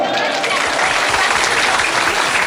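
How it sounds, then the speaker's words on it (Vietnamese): Steady, dense round of clapping from a crowd of guests at a birthday party, loud and continuous throughout with no gaps. "tôi muốn nghe một tràng pháo tay thật đều của quý vị"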